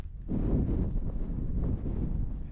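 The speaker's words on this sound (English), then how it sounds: "It's really windy though" Strong wind gusts buffet the microphone at an exposed wild camping spot, a continuous loud roaring rush that swells and eases without pause.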